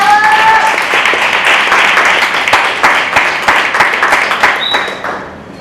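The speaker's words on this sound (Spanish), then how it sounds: "Un aplauso, por favor." A festival audience applauds warmly for a speaker being introduced, dense clapping sustained for several seconds before tapering off, with a brief voice fragment near the start.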